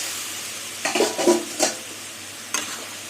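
Potato and pointed gourd pieces frying in a pan with a little water while being stirred: a soft background sizzle broken by several close scraping strokes in a quick cluster, then one more later.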